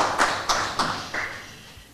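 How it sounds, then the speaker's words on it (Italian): Sparse claps in a small audience greeting an honored guest at a cultural tribute evening in Soveria Mannelli, a few separate hand-claps spaced out and then fading, thin and scattered rather than a full ovation. "che vi prego di salutare con un applauso per la sua presenza nella nostra città"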